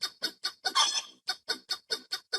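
A tune played on a livestream as a string of rhythmic, clucking chicken-like squawks in a steady beat, one longer squawk early on, fairly loud and alone with no talk.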